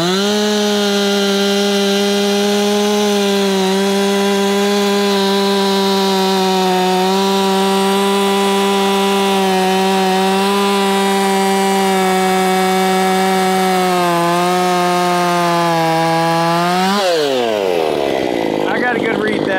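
Solo 6656 chainsaw fitted with a modified muffler, running loud and steady at high revs for a long stretch, then dropping sharply in pitch near the end as the throttle falls off.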